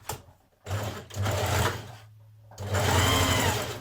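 A sewing machine neatens the raw edges of slinky fabric for a smock dress, running in three close bursts of steady whirring stitching separated by short pauses, with no talking.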